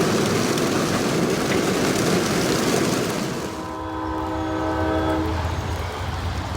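A northbound Norfolk Southern train on the Dayton District in Lockland passes on a rainy day, a loud steady rumble of rolling cars with a sustained multi-tone horn blast sounding partway through.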